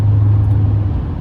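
A Duramax LML diesel pickup rolls down a steep mountain grade with a steady, loud low engine drone that holds throughout the moment. No one speaks over the rumble.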